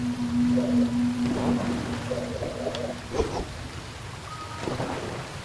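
A rushing waterfall roars steadily in the video game Never Alone, a dense broad wash of falling water with faint musical tones and game effects over it.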